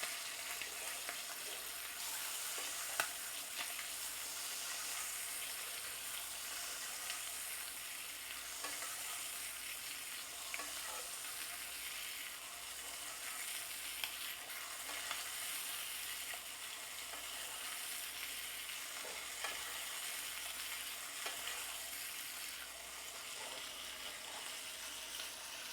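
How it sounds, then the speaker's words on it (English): Picanha steak sizzles and spits in a frying pan, a steady hiss with frequent small pops and crackles, running continuously and close without talk. "The sizzle is quite loud, and it's also spitting quite a bit."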